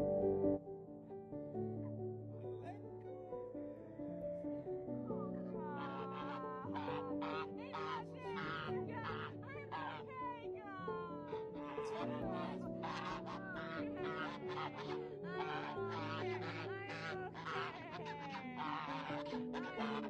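Geese honk and chatter continuously, many birds calling at once in a busy, overlapping flock, fairly close and steady throughout.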